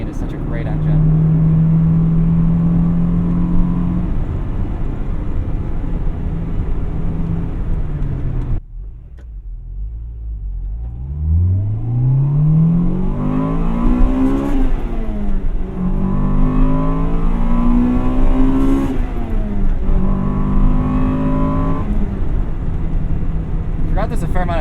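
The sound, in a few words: 1998 Acura Integra Type R engine revving into VTEC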